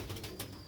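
Sialkoti pearl pigeons give a short, soft cooing burst, a few low pulsing coos close by with no talking.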